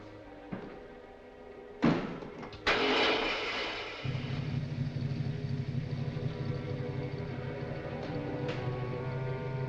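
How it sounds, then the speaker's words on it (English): A motor starts in a 1940s setting, preceded by a couple of sharp clanks or slams, then settles into a steady, close, low rumbling idle that runs on alone. "Start the motor."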